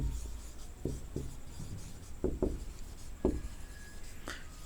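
Marker or chalk strokes on a classroom board during an English grammar lesson, a series of short scratchy taps and squeaks spaced irregularly, fairly close, with no talking.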